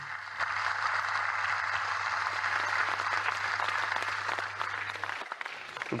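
Eight UFC fighters, Russian fighters gathered at one table, applauding together; a steady, dense patter of clapping, moderately close, runs for about five seconds before stopping abruptly, with a low hum underneath.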